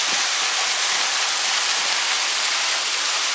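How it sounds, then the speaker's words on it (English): Loud, steady rush of falling water, a close waterfall roaring as broadband hiss without pause. "This is behind the waterfall."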